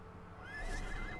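A video game horse lets out a short whinny that rises and wavers for about a second. It is fairly quiet and heard alone with no talk over it.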